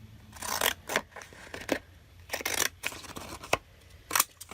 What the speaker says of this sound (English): So I am just going to cut around each of these